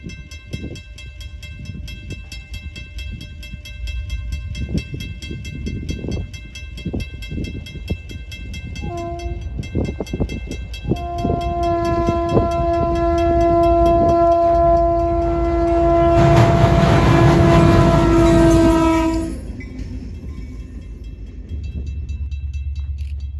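A badly fouled RS-3L diesel locomotive of U.S. Sugar, running light in South Central Florida, rumbles and clanks past nearby, then sounds its horn in several long, loud blasts before the engine noise carries on.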